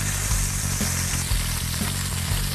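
Italian sausage with onions and peppers frying in olive oil, a steady close crackling sizzle with soft popping and faint stirring, no voices.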